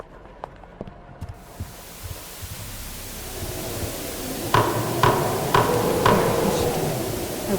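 Planks are hammered over windows in the horror game Suffer The Night, with several sharp knocking strikes spaced about half a second apart over a rising hiss and scattered lighter taps.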